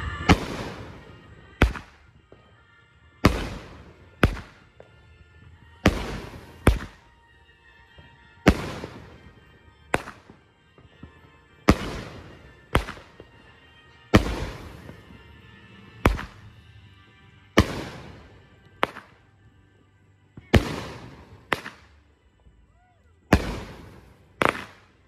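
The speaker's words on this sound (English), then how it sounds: "that was the loudest 200 gram cake I've ever put in" Pyro Demon Mike Drop 12-shot 200 gram firework cake, a dozen sharp, loud booming reports fired one after another at roughly two-second intervals, each ringing briefly before the next blast.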